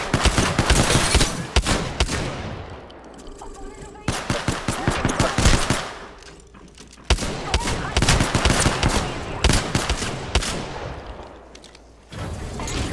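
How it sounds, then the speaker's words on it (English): Relentless automatic gunfire in a round of Apex Legends, long rattling bursts broken by short pauses and a few isolated shots, loud and close, with distant callouts faintly underneath. "Getting shot at."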